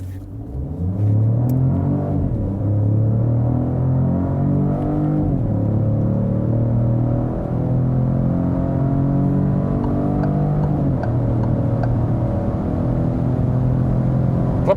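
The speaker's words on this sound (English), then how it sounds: "Now we accelerate out. We put it once again to sports mode." A Peugeot 2008 petrol car accelerates hard in sport mode, heard from inside as a loud continuous engine drone that climbs in pitch through the gears, dipping briefly at each shift.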